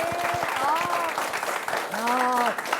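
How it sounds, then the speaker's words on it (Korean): An audience of students at a career talk with a forensic investigator gives a big round of applause, clapping strongly while voices ring out over it in bursts of cheering. "박수 소리가 아주 우렁차졌죠."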